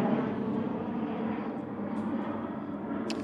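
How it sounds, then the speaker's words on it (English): An airplane flies over a residential neighborhood in Henderson, Las Vegas, giving a steady, fairly distant engine roar that holds evenly for the whole stretch. "Look at that plane."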